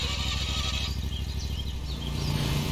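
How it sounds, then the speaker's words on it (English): Scag Patriot lawn mower engine in Lawn Mowing Simulator starting up and settling into a steady, loud, buzzing run that continues throughout without a break. "Start our engine."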